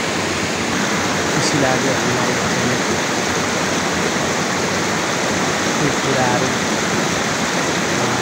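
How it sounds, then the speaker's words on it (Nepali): A waterfall beside a hill trail gives a steady, broad rushing roar that fills the whole stretch without a break, while people talk over it nearby. "त्यो झरना हेर्नुहोस् कस्तो दामी छ"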